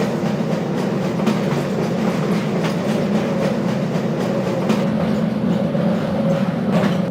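A moving tram train in Half-Life: Source, heard from inside the carriage on the way into the Black Mesa facility as a loud, steady rolling rumble with periodic clicking clacks of wheels over rail joints.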